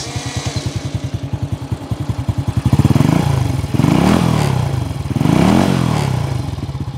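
A 2020 Viar Star NX motor scooter engine idles with a rapid, thumping, bassy exhaust putter, then revs up and down in several deep, throaty surges, close and loud.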